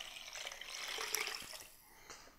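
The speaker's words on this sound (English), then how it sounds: "I'm going to add the water." Water is poured into a pot of mushroom chowder base with floured, cooked ingredients, a soft steady splashing and gurgling lasting about two seconds, fairly quiet and alone.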